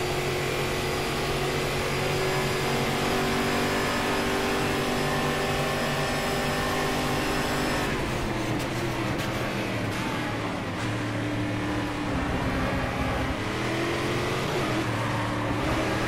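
A Brazilian V8 stock car races at Interlagos in the Stock Car Extreme game, its loud engine droning continuously at high revs before turning rougher and more ragged partway through, with no talking.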